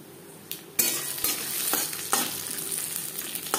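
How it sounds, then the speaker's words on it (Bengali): Peanuts frying in a spice tempering for lentil khichuri, a close, even sizzle with irregular scraping and knocking strokes of a spatula in the pan, no voices. "1-2 মিনিট ফোড়নের সাথে চিনেবাদাম ভেজে নেওয়ার পর"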